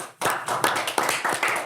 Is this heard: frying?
no